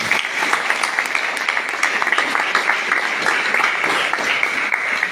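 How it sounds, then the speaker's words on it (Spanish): A university audience at a conversatorio claps steadily, a dense even wash of applause from many hands that holds at the same level throughout without letup. "Un aplauso."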